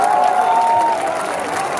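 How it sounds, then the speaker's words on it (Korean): An audience claps at an outdoor troop-entertainment concert by a K-pop girl group, a dense burst of applause that softens slightly toward the end, with a voice briefly audible. "박수 한번 주시죠"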